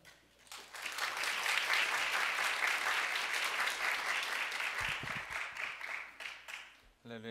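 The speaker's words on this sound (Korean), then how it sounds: "박수로 환영하면서 또 격려하면서 사모하는 마음으로 맞으시겠습니다" A church congregation claps to welcome a pastor to the front, the applause swelling quickly, holding steady for several seconds and then fading out, with a few low thumps partway through.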